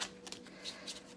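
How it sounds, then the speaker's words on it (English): Shuffling a Gilded Tarot card deck: several quick close riffles and card slides in rapid succession, crisp and near, with no talking. "I'm going to shuffle the Gilded Tarot deck for you"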